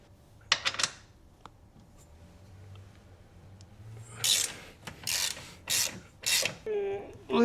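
A ratchet loosens a bolt while a factory strut brace comes off a Toyota GR Supra, giving several bursts of close, crisp clicking after a few sharp taps and quiet handling noise.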